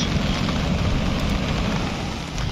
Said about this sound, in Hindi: आज बारिश ने सब कुछ बिगाड़ के रख दिया है